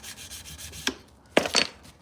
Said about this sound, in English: I'm hand sanding a knife.